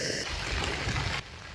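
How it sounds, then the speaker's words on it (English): Steady rain falls in an old Catholic cemetery in North Rocks, NSW, a dense close hiss of drops on the ground that drops slightly in level near the end. "with the rain coming down"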